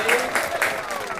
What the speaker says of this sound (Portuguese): Palmas! Eu quero aplausos!